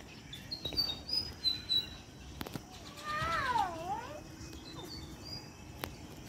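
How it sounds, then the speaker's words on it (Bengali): A pet cat called Lalu gives a single drawn-out meow in a garden, fairly close and clear, with birds chirping faintly around it and short scuffing noises before it. "ম্যাও ম্যাও করছে"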